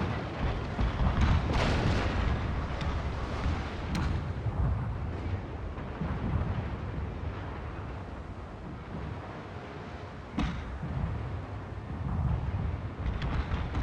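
Artillery fires solid shot in a Total War: Shogun 2 battle, a dense, continuous rumble of booming cannon blasts near and far, with a few sharper reports standing out.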